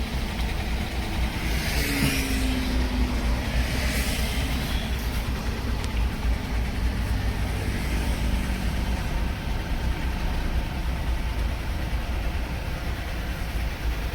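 A Maruti Suzuki Alto K10 small hatchback on a highway near Nagpur gives a steady, loud cabin drone of engine and road rumble that holds unbroken for the whole stretch, with no voices.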